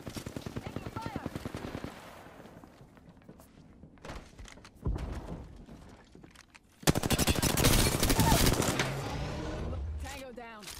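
Gunfire in a Bangalore match of the shooter Apex Legends: rapid automatic bursts up front, scattered single shots and thuds, then a loud sustained volley near the end, with voices calling out over the action.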